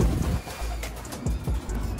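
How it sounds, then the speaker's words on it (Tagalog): Pigeons or doves flutter and coo outdoors just after rain as they gather to be fed, with a few soft wingbeat bursts over steady background noise. "kakatapos lang ng ulan, kaya pakain tayo ng ibon."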